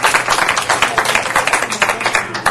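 Steady applause from attendees at a city council meeting, a dense run of many hands clapping that stays loud and even throughout, with no talk over it.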